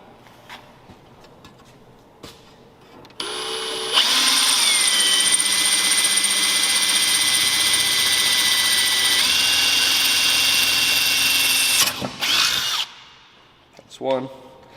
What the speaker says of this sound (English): I'm gonna grab a smaller drill bit first just to make a pilot hole.